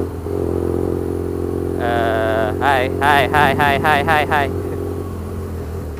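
A BMW R nineT motorcycle with a newly fitted exhaust runs nearby, giving a steady, deep, throbbing engine note. Someone talks over it in the middle of the stretch.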